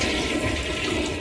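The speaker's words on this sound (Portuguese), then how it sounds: "alguém deu descarga em mim" A loud, rushing toilet flush from Crash Bandicoot 3: Warped fills the short moment with a churning whoosh of water, close and alone without speech.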